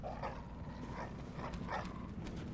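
Enhanced dogs in the Bloodborne Old Hunters DLC barking in several short yelping bursts, spaced out over a steady droning game soundscape with no voices.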